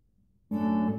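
A single chord rings out on a classical guitar during a lesson on Bach's Prelude and Fugue BWV 998, struck suddenly after a near-silent moment and left to sustain, close and clear.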